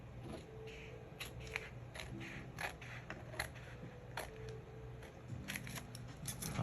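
Scissors snip patterned craft paper in a series of short, crisp cuts at an uneven pace, close and fairly quiet, with faint paper rustling between snips and no speech.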